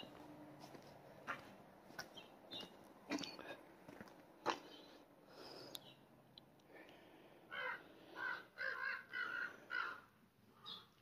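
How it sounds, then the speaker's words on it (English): Crows caw around an abandoned resort by Seneca Lake. Scattered footsteps and knocks come first, then a rhythmic run of about five harsh caws at moderate distance, fairly quiet overall. "Crows aren't liking me here, are they?"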